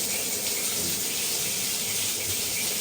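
Warm water running steadily from a tap to mix with dish soap, a continuous loud hissing gush with no pauses and no talking.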